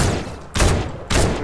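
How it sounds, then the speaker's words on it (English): Two bursts of rapid gunfire from a Fortnite Battle Royale match strike the player, loud and close, separated by a brief pause with no talk over them. "Oh, I'm getting shot."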